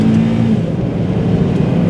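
A Honda Accord Euro with a K20A6 engine revs hard while driving, a loud, steady, close engine roar with no talk.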